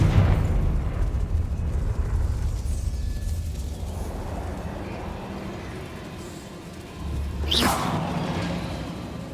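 A Confringo blasting spell in Hogwarts Legacy bursts with a whooshing, rumbling explosion that swells and fades, followed by a sharp second crack near the end, loud and close with no talking.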